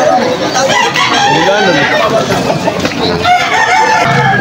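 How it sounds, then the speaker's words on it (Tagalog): Roosters and chickens at a Sunday market in Malolos, Bulacan, where birds are sold, with crowing and clucking mixed into a dense, busy background of voices and crowd noise throughout. "Sir, marami kayong dala manok ngayon."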